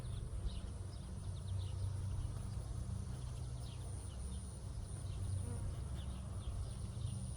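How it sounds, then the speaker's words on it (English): Honeybees swarm around an open hive during a varroa mite check, a dense, steady buzzing drone filling the air close by for the whole stretch, with no voices. "A lot of bees here."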